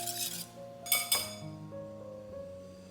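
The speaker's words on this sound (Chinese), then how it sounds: "碗里先后倒入牛奶和植物油，充分搅拌2到3分钟进行乳化" A utensil stirs milk and vegetable oil in a bowl, giving light clinks and taps against the bowl, a few quick strikes followed by fading ringing, quiet and close.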